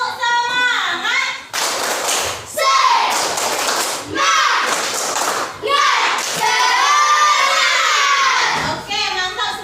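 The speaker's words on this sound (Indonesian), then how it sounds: "Tepuk semangat." Classroom children performing the tepuk semangat clapping chant, loud group shouting in rhythmic bursts with thuds of clapping, mixed with a teacher's voice and kids' chatter.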